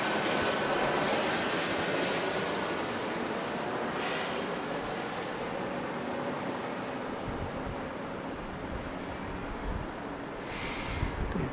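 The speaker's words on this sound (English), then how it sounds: "Bizjet of some sort." A business jet at LAX airport, a steady broadband engine roar holding loud and near throughout, with no talk over it.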